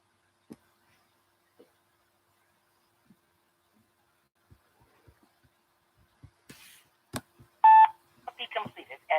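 Telephone dialing tones from a reverse dialer during cold calling, with a sparse series of faint clicks followed by a clear burst of keypad beeps and quick tone chirps near the end.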